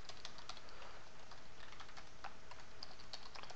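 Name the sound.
typing Java code on a computer keyboard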